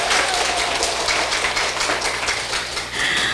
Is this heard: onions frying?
no